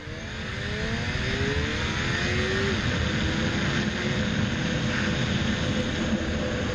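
Car accelerating through the gears on a road between Switzerland and France, a steady engine roar heard from inside the cabin, building at the start then holding level with faint rising tones as it shifts.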